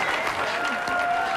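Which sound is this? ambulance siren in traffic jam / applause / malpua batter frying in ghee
applause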